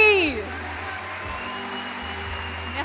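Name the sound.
applause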